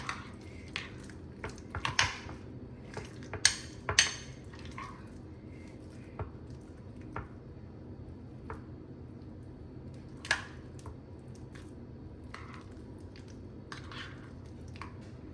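Lychee shrikhand being stirred in a bowl, soft wet squishing and scraping strokes in an irregular rhythm, close and quiet with no talk.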